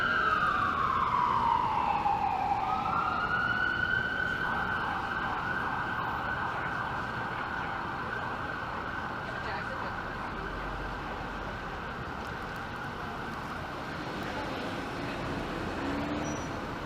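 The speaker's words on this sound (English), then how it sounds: "I feel like there's been a lot of emergency vehicles on this one." Emergency vehicle siren sweeping and wailing loudly through downtown Toronto traffic, rising in pitch then holding a steady high tone for many seconds over constant road noise.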